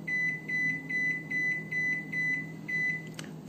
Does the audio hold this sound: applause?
no